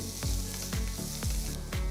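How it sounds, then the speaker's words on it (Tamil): Sliced onion fries in oil, sizzling and crackling steadily in a pan, with a soft stirring scrape recurring every half second or so. "2 டீஸ்பூன் எண்ணெயை ஊற்றி 1 பெரிய வெங்காயம் மெலிசா நறுக்கி போட்டு வதக்குங்க."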